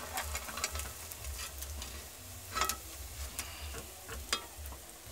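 Pakoras fry in oil in a pan over an open wood fire, a soft continuous sizzle with scattered crackles and pops, faint and close, with no talking.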